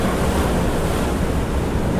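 Sea waves surge against the shore at Gangeshwar Mahadev temple in Diu, a steady, close, full-bodied roar of surf with gusty wind buffeting the microphone throughout, and no voices.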